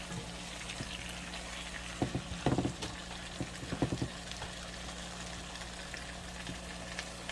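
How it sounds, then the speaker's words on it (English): Collard greens sautéing with onions and sweet peppers in a pan, a quiet steady sizzle broken by a few brief scraping and clattering stirs near the middle. "I'm going to stir them around just a little bit so they can get down into the seasoning of the onions"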